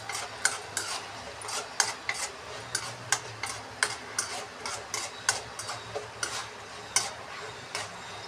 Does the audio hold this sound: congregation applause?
no